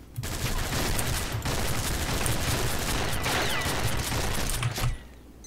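Continuous automatic gunfire in the online shooter Combat Arms, a dense rattling burst sustained for about five seconds, loud and close.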